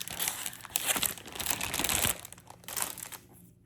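Paper is handled and crinkled up close, a continuous rustling and crackling that swells and fades for a few seconds before going quiet.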